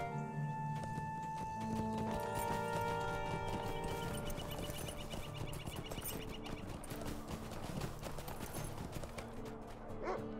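Horse hooves clip-clop steadily in the Lord of the Rings Online game, a quiet regular patter under music and faint talk.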